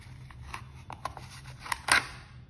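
A Zippo double torch butane lighter insert gives several sharp, close mechanical clicks spaced irregularly, the last one loudest, over a quiet background.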